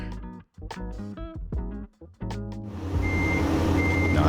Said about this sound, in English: I'm trying to figure out how to lower the volume of that beep, specifically.